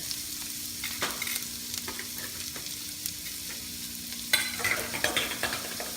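Onions fry in a pan of hot oil with a steady crackling sizzle, broken by occasional stirring scrapes and a louder burst of spitting toward the end.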